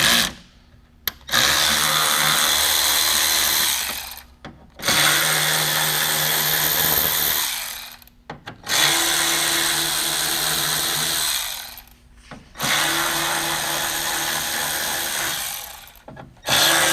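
A power tool whirs loudly in four long sustained runs of about three seconds each, separated by short pauses, while backing out T15 Torx bolts along the top of a Chevy ZR2 diesel truck.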